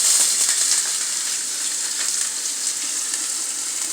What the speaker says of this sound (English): going to saute some chopped onions